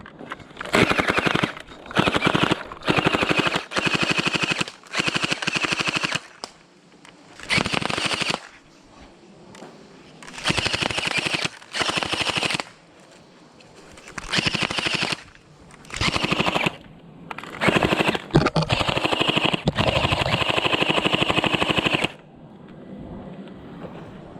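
A gel blaster toy gun fires in rapid bursts of sharp clicking shots, with repeated sprays separated by short pauses over about twenty seconds.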